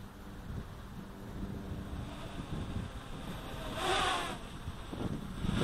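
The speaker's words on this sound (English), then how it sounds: "the wind" Wind blows outdoors on Maui, rumbling steadily against the microphone with a gust swelling midway, and no voices.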